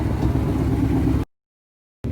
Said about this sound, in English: Give it a couple revs. Does have a lot of crackles for not being tuned right now.